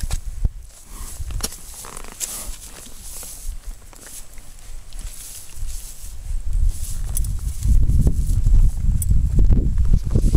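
Horse hooves clop along at a walking pace on a trail ride through Seminole Ranch forest in Florida, over rough, noisy outdoor background rumble, with irregular steps throughout.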